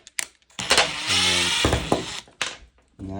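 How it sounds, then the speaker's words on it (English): Power drill boring a hole for hinges in a wooden foldable treat wall shelf, a loud sustained whirring burst of about a second and a half, with shorter starts and stops before and after, close up. "So I'm going to drill a hole"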